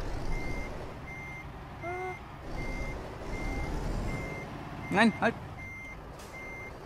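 Reversing beeps from a truck backing up in Euro Truck Simulator 2, a steady, evenly spaced series of beeps running under engine rumble, with someone briefly speaking and calling out.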